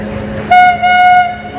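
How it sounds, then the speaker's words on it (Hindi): A train passes on a railway near a bridge, sounding a loud, steady horn with two blasts in quick succession over the rumble of rolling wagons. "और देखो संगवारी रेल है जाते हमारे पीछे दहाले"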